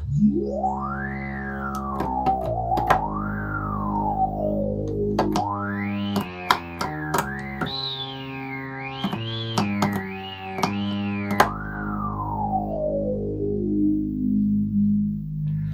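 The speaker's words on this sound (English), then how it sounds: "That's that unique Moog synthesizer sound, I love it." A Moog synthesizer, freshly serviced, plays a loud, rich buzzy tone that swoops and glides up and down in pitch, with wavering sustained notes and sudden slides, no voices present.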